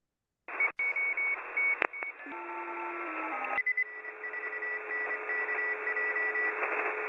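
Radio receiver output from a single antenna carrying several simultaneous steady tones at different pitches over a hissy band, starting abruptly after silence, with beeps and tones switching on and off and shifting before settling into a continuous hum.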